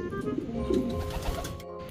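Racing pigeons coo softly and repeatedly close by during a training session, with low throaty calls under faint background noise.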